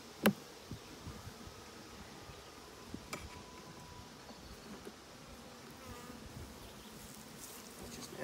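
Honey bees at an open beehive in a beeyard on a windy day give a faint, steady insect hum that runs throughout, with light rustling and an occasional sharp knock near the start.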